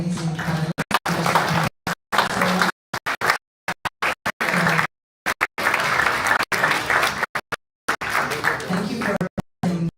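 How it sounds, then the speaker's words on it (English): Audience clapping for a panel after a live crypto meetup interview session, a full burst of applause broken by abrupt dropouts, with talk mixed in. "Well, a round of applause for our amazing panel."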